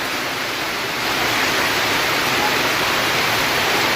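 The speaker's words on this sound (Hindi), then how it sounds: "ओ बारिश, कितना बारिश, हर जगह पानी जमा हो गया है।" Heavy rain roars in a constant, loud wash of noise, swelling slightly after the first second and holding steady throughout.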